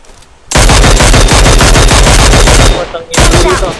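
Loud, continuous rapid gunfire rattles in a video game, a dense burst of machine-gun fire lasting several seconds, with a brief pause and then more shots.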